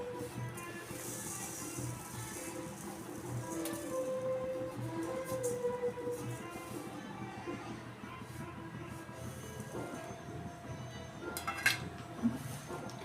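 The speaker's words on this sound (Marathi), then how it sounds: "आता आपण व्यवस्थित मिक्स करून घ्यायचं साखर आणि पुरण आपलं इथं व्यवस्थित मिक्स झालं पाहिजे" Sugar is stirred into cooked puran (lentil filling) in a pot for puran poli, giving quiet scraping and clinking of a spoon against metal, with a few sharper clinks near the end and faint room noise.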